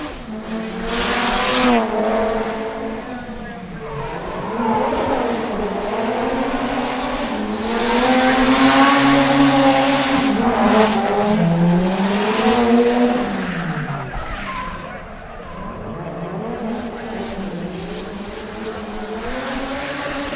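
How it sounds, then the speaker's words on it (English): A 400-horsepower Nissan Silvia S15 drift car screams through a qualifying run at a Sochi round of a drift series, its loud engine rising and falling continuously against sustained tire squeal. "The next one is Dmitry Yermokhin, number 24 in his Nissan Silvia S15 with 400 horsepower, having his first qualifying run."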